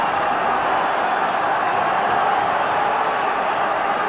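A large football stadium crowd murmurs and roars steadily at a Scotland vs Switzerland Euro qualifying match. The broad, sustained wash of noise is heard alone, with no talk over it.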